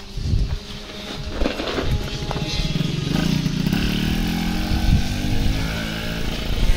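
A motorcycle in a 24-hour endurance race at Carcassonne revs up nearby and rides off, its engine rising to a loud, sustained rough drone after some clattering handling sounds at the start.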